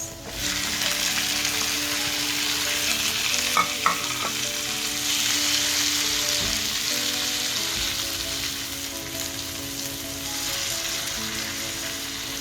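Tomatoes tossed into browned garlic frying in a pan, a dense continuous sizzle swelling as they hit the oil, with a few utensil clicks and stirring scrapes, close and even, no voices.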